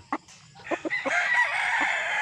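A three-year-old Boston Millionaire LDT gamefowl cock crows close by, a long drawn-out call following a few sharp clucks, over a quiet outdoor background.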